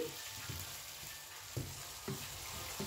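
Mushroom and capsicum with kasuri methi sizzle quietly in a pan over low heat, while a spoon stirs and scrapes in a few soft, irregular strokes against the steady frying hiss.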